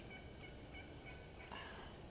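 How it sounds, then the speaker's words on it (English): Wild turkeys gobbling in a wooded river bottom in Mississippi, faint and distant, several short gobble bursts repeating over a quiet outdoor background. "We're listening to turkeys, watching them all in this bottom."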